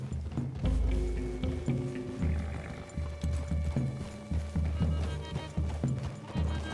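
Horse hooves thudding at a gallop in Red Dead Redemption 2, an Old West game, with a steady loud rhythm of heavy beats across the whole stretch and a brief burst of louder movement near the start.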